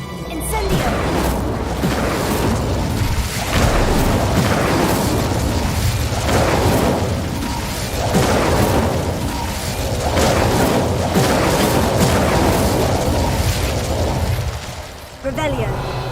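Fire spell explosions in the Hogwarts Legacy video game, a dense run of booming bursts and crackling blasts, loud and continuous for most of the stretch, with game voices mixed in.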